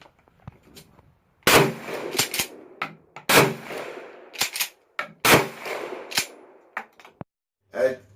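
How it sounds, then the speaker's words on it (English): A Mossberg Maverick 88 12 gauge shotgun fires three loud, sharp blasts spaced about two seconds apart, each with a short echoing tail and pump clacks between, outdoors and close by. "Now take a look at me firing this weapon. Maverick 88 12 gauge shotgun by Mossberg"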